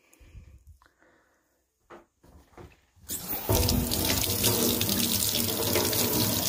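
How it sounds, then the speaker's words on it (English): A few soft knocks and clinks, then a faucet turns on and warm water pours steadily into a sink over a makeup brush being rinsed, splashing loudly and continuously up close. "Give it a rinse with some warm water."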